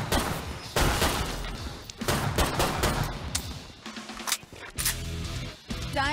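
Gunfire from the zombie shooter game Killing Floor 2, loud bursts of rapid shots and heavy impacts crowding the whole stretch, broken by brief pauses and thuds.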